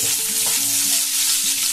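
Oil sizzles steadily as raisins fry, with a spoon scraping and stirring through the pan close by.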